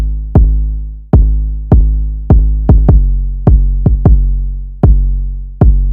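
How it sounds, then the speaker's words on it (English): Deep 808 bass notes with a kick drum land in a beat, each hit booming and sliding down in pitch, loud and sustained, with a quick irregular rhythm of nine hits. "so I turned it down a ton and I found a kick that meshed well together"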